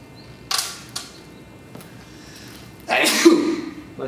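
A single loud, sharp sneeze near the end, following a few faint clicks and rustles in an otherwise quiet classroom.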